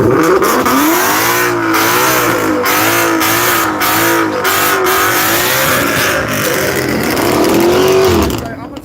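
A drag racing car with a manual stick shift accelerates hard at a small-tire street racing dragstrip, its engine loud and close, with rising revs broken by repeated gear changes and crowd voices chattering underneath.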